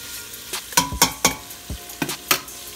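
Sausage sizzles in a pan with chicken for Cajun chicken pasta, with a close, steady frying hiss broken by a series of sharp scraping bursts as the pieces are stirred and moved.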